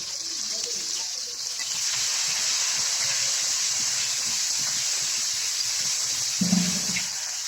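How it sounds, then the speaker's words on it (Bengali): Potatoes fry in hot oil with salt and turmeric, giving a steady bright sizzling hiss that holds evenly throughout, with a brief clatter near the end. "এই তেলের ভিতরে আলু দিয়ে ভেজে নিব"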